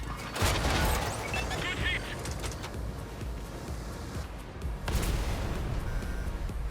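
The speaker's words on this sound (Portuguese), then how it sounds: "E o STI segue na missão de me dar tiro explosivo aqui" Loud booming explosive tank cannon blasts in World of Tanks, one near the start and another later, over constant rumbling battle noise.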